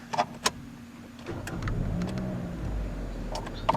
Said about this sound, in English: The starter noise in this vehicle does sound better